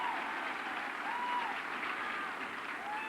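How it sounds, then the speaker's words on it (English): An audience claps steadily through a 1987 television variety special, a continuous wash of applause heard at a moderate distance with a faint whistle over it. "How about a little applause?"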